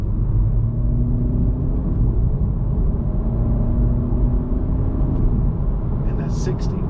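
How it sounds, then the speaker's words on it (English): The 2024 Acura Integra A-Spec engine holds high revs after a paddle-shift downshift while stopped at a stoplight, a loud steady droning hum inside the cabin with a faint voice near the end. "Downshifting. I'm at a stoplight, and you hear that it's holding the high revs."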